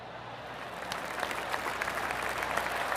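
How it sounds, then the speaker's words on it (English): Golf gallery applause in PGA Tour 2K21 after a strong approach shot on the first hole, a steady spread of clapping from a crowd that swells slightly and continues throughout at moderate volume. "That deserves a golf clap."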